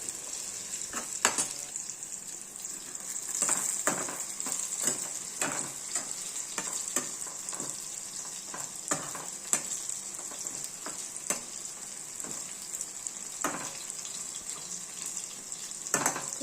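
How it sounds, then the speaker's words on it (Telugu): Brinjal (eggplant) slices deep-fry in hot oil with a dense, hissing bubble that holds steady throughout. Occasional crackles and light utensil clicks rise above the hiss. "ఇలాగా ఫ్రై అవ్వనివ్వాలి బాగా డీప్ ఫ్రై అవ్వాలండి"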